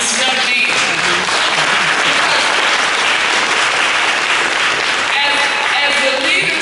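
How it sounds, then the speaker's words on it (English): An audience applauds a young man at a Selma City Schools event, sustained dense clapping filling the room loudly and steadily from start to finish. "So Selma, I want you all to applaud this young man."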